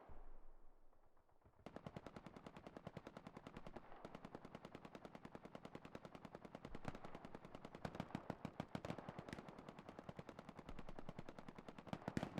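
Sustained machine gun fire in a multiplayer war game, rapid rattling bursts that run almost without pause, loud and close with faint distant shots behind.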